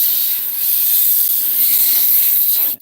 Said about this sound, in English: I have an air compressor, and I just use it to kind of dry the stone